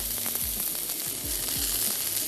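Vegetables sauté in a pan for a cheese pasta roll dish, giving a steady, loud, hissing sizzle throughout with a low musical tone underneath.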